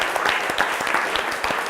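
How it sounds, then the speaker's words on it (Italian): A studio audience on a TV quiz show claps in a quick burst of individual, distinct hand claps, lively and close, lasting under two seconds. "diamo un applauso a Pierangelo Buttazzoni"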